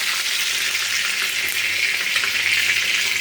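Chicken sizzles and spits steadily in a hot frying pan, a loud, continuous crackling hiss up close with no voices.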